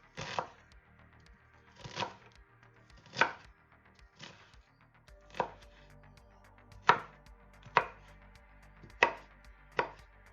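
Onions chopped with a knife on a board: about eleven sharp, distinct chops spaced roughly a second apart, close and clear with nothing else over them.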